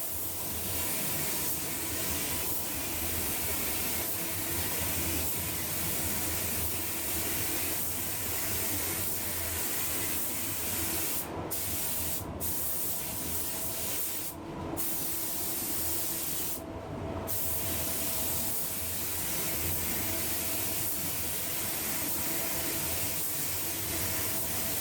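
An Eastwood Concours LT100 HVLP spray gun laying down a second coat of paint in a home garage, with a steady airy hiss in repeated passes and brief pauses between strokes, no talk.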